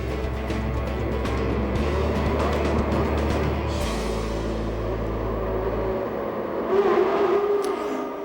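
Formula Renault 3.5 race cars pull away at a race start, a loud blended roar of engines with shifting pitch and a low rumble, cars revving and passing without speech.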